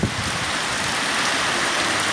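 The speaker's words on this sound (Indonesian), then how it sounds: "saudara-saudara bisa lihat hujan dan badai kuat sekali" Heavy rain pours during a strong storm, a dense, loud, unbroken hiss of downpour with no pauses, no voices.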